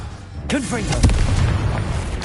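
Confringo blasting spell exploding in Hogwarts Legacy: a heavy, booming blast with a rumbling tail, close and loud, overlapped by a voice.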